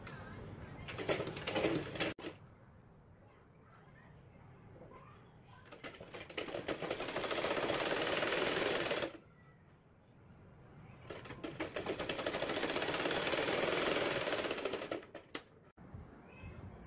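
A sewing machine stitches a lined blouse in two long, steady runs of rapid close clatter, separated by short pauses with light handling noise.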